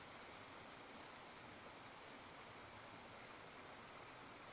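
A river stream flows steadily in a natural outdoor setting, a soft, even rushing wash that stays constant and faint throughout with no voices.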